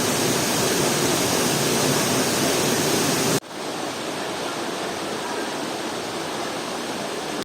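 Bulawan Falls waterfall pours in a loud, continuous rushing roar, then the sound drops abruptly to a somewhat softer steady rush partway through, with no talk.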